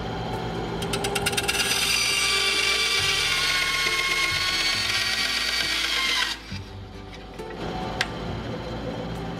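A power drill whines steadily at high pitch with rattling metal bits while drilling out rivets on an aircraft under construction, then stops abruptly, followed by a few clanks and a short buzz.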